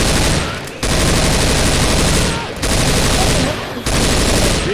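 Sustained rifle fire in The Town 2.0 video game, loud continuous bursts broken by three short pauses, dense and close throughout.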